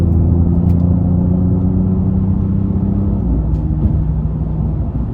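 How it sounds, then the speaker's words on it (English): An Audi S6 engine drones loud and steady from inside the cabin at full throttle, a low rumbling hum holding at high load with a slight pitch shift. "I'm gonna floor it a little bit just to get out of traffic"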